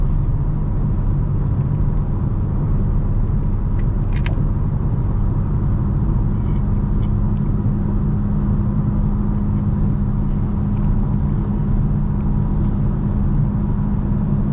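A 2025 BMW M4 Competition cruising at an easy pace, its steady engine drone and low road rumble running continuously and fairly loud throughout, with a few faint brief clicks and no talk.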